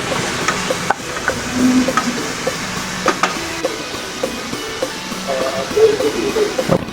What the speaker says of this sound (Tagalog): Tsaka natin gigisa yung bawang sibuyas. Sama-sama na yan, pati ang luya.